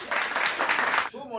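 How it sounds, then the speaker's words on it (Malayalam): A team claps together in a short burst of applause that fills most of the moment, steady and close, then breaks off as a voice begins speaking. "ഇവിടെ ടീമതാ കൈയടിക്കുന്നത്"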